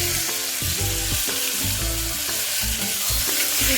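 Ginger garlic paste with mint and coriander sizzles steadily in a hot pan for village-style liver biryani, a loud continuous frying hiss broken by repeated scraping and stirring strokes, close up with no talking.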